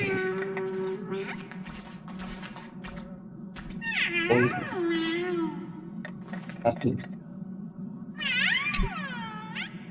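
A cartoonish cat meows in Honkai: Star Rail, with several rising and falling meows near the middle and end of the stretch, heard over steady background game music and chatter.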